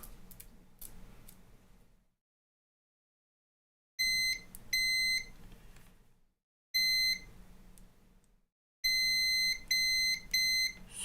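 A small electronic beeper on a power supply assembly bench gives repeated bursts of short, high, bright beeps in three clusters separated by pauses, close and fairly loud over light handling noise.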